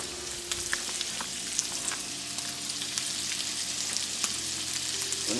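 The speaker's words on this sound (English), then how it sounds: "ahorita cocinando el chorizo" Chorizo fries in a pan on the grill with a steady, close sizzle, broken by frequent sharp crackles and pops.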